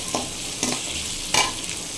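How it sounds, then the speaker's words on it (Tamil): Onions sauté in a pan for egg macaroni, a soft steady sizzle broken by three quick stirring scrapes, close and clear with no talking. "வெங்காயம் நல்லா வதங்கட்டும்."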